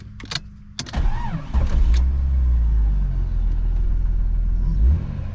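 A Jeep with freshly done brakes starts and pulls off on a first test drive, its engine rising into a steady low rumble that holds for several seconds after a few brief clicks and knocks.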